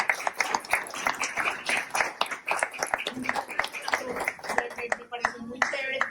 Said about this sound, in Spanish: un gran aplauso por